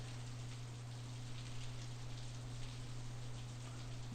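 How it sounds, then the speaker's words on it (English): Rain falls in Steins;Gate 0 as a steady, even hiss of drops over a low constant hum, unchanging throughout with no voices. "The rain was falling on my face in drops so large that it hurt."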